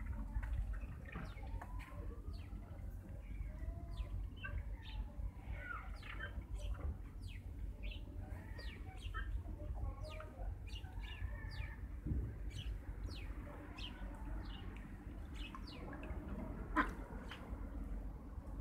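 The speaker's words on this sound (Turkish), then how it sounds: "Burada ördekler var." Ducks at a park lake café in Kocaeli, calling with scattered quacks and other bird sounds over steady low background rumble and faint voices.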